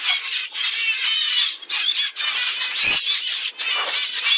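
Small zebra finches in an aviary chirp and squawk in a dense, continuous, high-pitched chatter, with one sharp louder call standing out midway.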